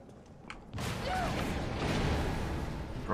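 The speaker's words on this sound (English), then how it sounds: "Bro, chill with the fucking explosions," An explosion booms suddenly in the video game Resident Evil 3, followed by a sustained loud rumbling roar with debris-like crackle that lasts several seconds before a final thud.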